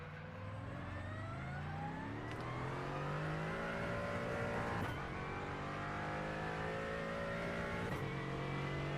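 A Mercedes AMG GT4 race car in the iRacing sim, qualifying, revs hard through the gears, its engine note climbing repeatedly with brief dips at each shift, steady and prominent without talk.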